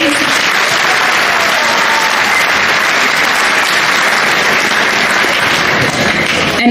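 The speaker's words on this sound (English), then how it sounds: "So can we give them a round of applause," Loud, continuous applause from a large audience at a community festival event, many hands clapping steadily without pause and nobody speaking over it.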